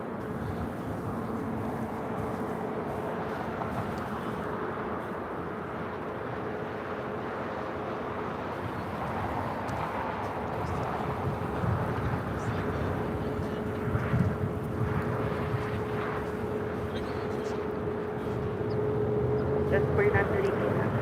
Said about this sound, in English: Atlas Air, the 8610 coming up from Anchorage, a 747-400 freighter